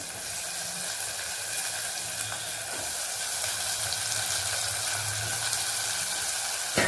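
Vegetables sizzle and fry in a hot pan for a Tirunelveli-style dried-fish curry, a steady, dense hiss with faint bubbling and occasional soft clinks underneath, continuous throughout with no talking.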